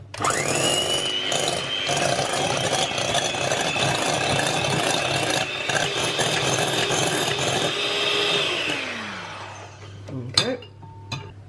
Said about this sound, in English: we're just going to whisk that together till smooth and creamy